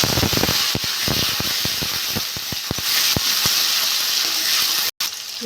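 Tomato and ginger hitting hot oil in a pan, a steady bright hiss and sizzle peppered with sharp crackles and pops, close and fairly loud, with one brief dropout near the end.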